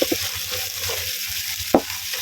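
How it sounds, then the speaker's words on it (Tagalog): Food sizzles in hot oil in a pan while a utensil stirs it, giving a close, steady frying hiss with soft scraping strokes and one sharp clack partway through. "Haluin natin hanggang sa mag-golden brown."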